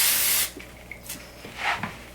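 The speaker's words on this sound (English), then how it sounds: "we'll just spray it." Goldwell Dry Boost texture spray releases one strong hissing burst from the can that cuts off abruptly, followed by faint rustling and a softer second puff.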